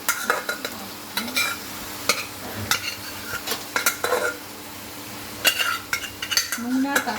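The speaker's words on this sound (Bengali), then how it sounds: "সেদ্ধ করা তরকার ডালটা আমি দিয়ে দিচ্ছি" Boiled lentils cooked with green chili are stirred in a pan for an egg tarka, with irregular close scrapes and clinks of a spoon against the pan and a faint sizzle underneath.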